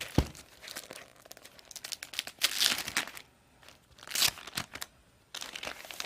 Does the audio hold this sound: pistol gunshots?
no